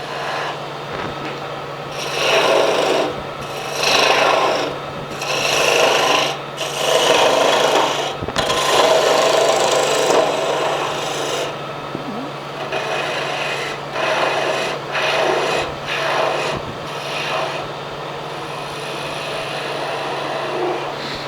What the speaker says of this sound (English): I don't normally like to use a parting tool to cut things off like this